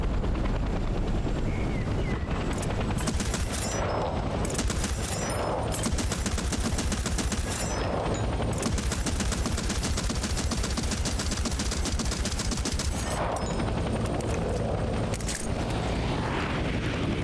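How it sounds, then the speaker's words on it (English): Anti-aircraft gun firing at an enemy helicopter in Hell Let Loose, a dense, continuous roar of automatic fire with rumbling blasts, loud and sustained throughout. "enter the AA gun and shoot down the enemy chopper"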